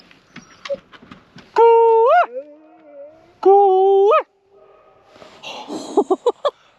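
Jackson the dog lets out two long, drawn-out howls with rising and falling pitch, broken by whimpery yips, then a quick run of short sharp barks, close and clear on a quiet off-grid sailboat.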